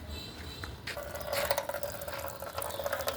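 Water is poured steadily from a container as drinking water for a goat, giving a close, continuous splashing flow that swells a little midway and carries on alone without talk.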